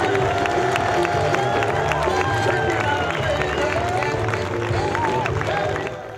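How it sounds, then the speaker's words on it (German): At an acrobat show in the Herrenhäuser Gärten in Hannover, a crowd applauds and cheers loudly, with a dense mass of clapping, whoops and overlapping voices that eases slightly near the end. "Donnernder Applaus am Ende der Darbietung."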